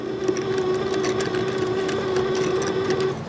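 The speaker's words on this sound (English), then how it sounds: "Doesn't weld because all that rust is an insulator." A 110-volt flux core welder sputters against rusty metal without striking a proper weld, giving a steady, continuous buzzing hum with a faint crackle at close range, and no one speaks.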